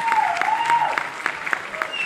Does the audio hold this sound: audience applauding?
yes